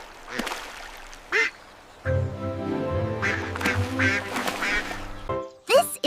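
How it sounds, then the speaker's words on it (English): A cartoon farm duck quacks several times in short, sharp nasal bursts, set against a bright musical backing that swells in the middle. "This is a duck."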